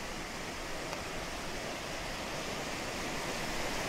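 Pha Tat waterfall pouring steadily, a broad, even rush of falling water heard close up, constant and moderately loud, with no voices.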